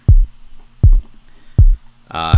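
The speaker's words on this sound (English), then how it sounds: "This is like a much punchier kind of kick sound." Punchy processed kick drum in a mixing chain ahead of overdrive distortion, hitting three times at an even pace, each thump deep and loud, before a brief tonal voice-like sound cuts in at the end.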